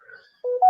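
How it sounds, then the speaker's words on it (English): A mobile phone rings with a short electronic tone that starts abruptly and grows louder, clear and alone after a moment of near silence. "that's my phone"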